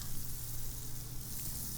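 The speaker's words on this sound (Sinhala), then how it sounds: "පෑන් එක රත් වෙනකොට අපි ඒකට බටර් තේ හැඳි දෙකක් එකතු කරගන්නවා" Two teaspoons of butter sizzle in a hot pan, giving a steady, close crackling hiss over a low hum with no pauses.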